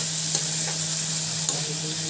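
Boiled potatoes stirred and frying in a pan, a steady loud sizzle with a couple of brief scraping stirs, close and without voices.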